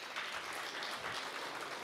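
Audience of entrepreneurs applauding at a talk, a steady, dense wash of clapping filling the whole moment at moderate volume with no voices over it.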